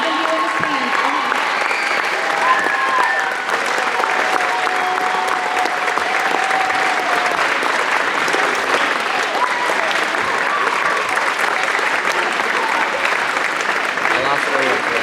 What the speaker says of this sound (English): we can recognize your service with one more round of applause